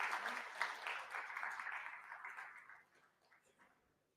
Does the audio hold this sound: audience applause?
yes